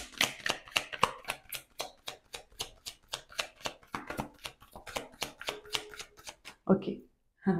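A deck of tarot cards is shuffled close by in a quick, steady run of crisp riffling flicks lasting about seven seconds, ending with a couple of softer card taps.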